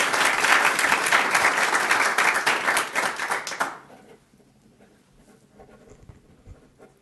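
Applause for newly sworn-in members at a regular city council meeting, a loud burst of clapping from the chamber audience lasting several seconds before stopping abruptly and giving way to quiet room noise.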